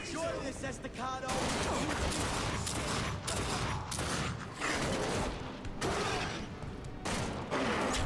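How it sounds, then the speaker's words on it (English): Gunfire and explosion effects in The Darkness II video game come as repeated sharp bursts over a continuous, dense combat din, with a player talking intermittently. "That explosion"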